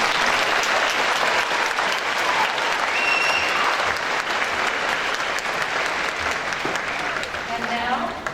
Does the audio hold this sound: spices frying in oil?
no